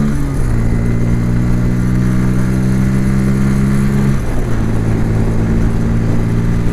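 A Bajaj Pulsar N160 dual ABS motorcycle's engine is held in third gear, giving a loud, steady drone that rises and then dips briefly before climbing again. Wind rushes throughout, and no one talks.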